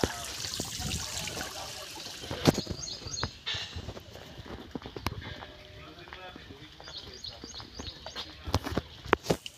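Water pours into a swimming tank at a large bungalow under construction: a steady splashing trickle runs throughout, with scattered clanks and knocks and someone talking over it.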